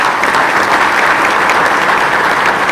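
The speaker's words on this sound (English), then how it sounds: "And right now, let's give them a round of applause." Loud, dense audience applause fills a Chamber of Commerce event room in Monroe, steady and continuous throughout with no talk over it.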